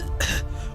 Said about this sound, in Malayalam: അന്നേരം മുതൽ ഈ ചുമയും കൂടെ ഉണ്ട്